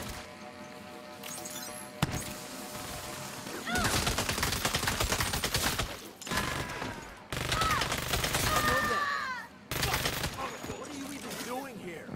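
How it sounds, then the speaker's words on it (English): Assault rifle fire in the video game Saints Row, loud bursts of rapid automatic shots in several long strings with brief gaps, crackling and echoing. "It feels very similar to the regular assault rifle."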